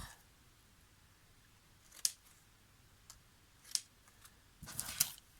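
Scissors snip through scrapbooking paper, cutting off the stitched edge in three or four sharp, close clicks spaced over a few seconds against a quiet room.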